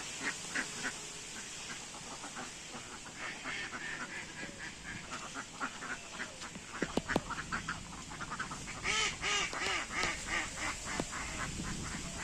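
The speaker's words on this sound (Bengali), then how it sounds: "এখানে পুকুরের মধ্যে অনেক হাঁস আছে, সেগুলোই দেখছি" Ducks on a village pond quack repeatedly, some calls close and others farther off, overlapping in loose bursts that grow busier toward the end, with no talking.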